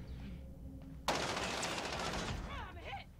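Gunfire in Call of Duty Warzone: after a quiet second, a sudden loud burst of rapid shots rattles on for about two seconds, then fades, with faint voices nearby.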